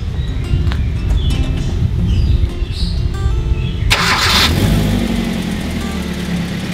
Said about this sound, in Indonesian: Suara mesinnya kenceng.